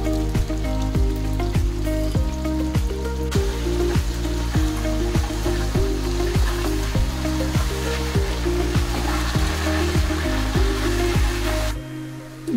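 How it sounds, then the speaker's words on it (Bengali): Chicken fries in a pan for a chicken makhani with a steady, loud sizzle and crackle. A low rhythmic scraping repeats over it, likely stirring, and the sound drops briefly near the end. "চিকেনটা যতক্ষণ সাদা না হয়ে যাবে ততক্ষণ ভাজতে থাকবো।"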